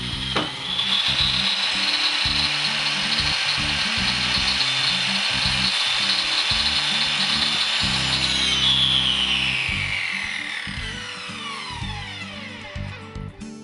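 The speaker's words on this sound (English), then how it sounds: "A 1/4-inch drain hole is drilled here" A power drill boring a 1/4-inch drain hole in a hydroponic tank runs steadily for over ten seconds, its high whine holding pitch and then sliding lower as it winds down near the end.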